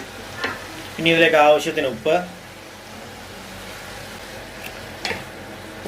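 Tomatoes sizzle and fry in a pan while being stirred for a chutney, a steady crackle under a person speaking, with brief bursts of scraping early on.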